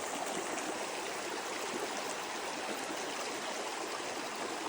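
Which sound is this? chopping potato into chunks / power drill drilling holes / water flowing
water flowing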